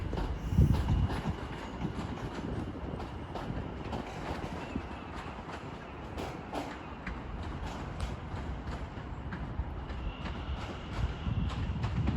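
London Overground train at Watford Junction on the West Coast Main Line, a rumbling, rattling passage with faint clicks of wheels over rail joints, moderately distant and steady throughout.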